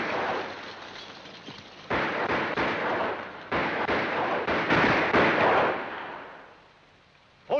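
Heavy battle gunfire in a 1951 frontier war film, dense volleys of shots and booming reports rolling continuously across the scene, with stronger bursts surging loud, then tapering off near the end.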